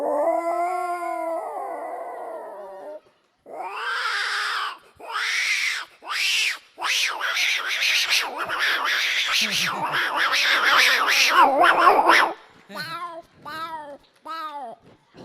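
A voice mimics two cats fighting, with drawn-out yowls and wails that break into rapid, overlapping snarls and spits, then ends in short, rising meows, loud and close throughout.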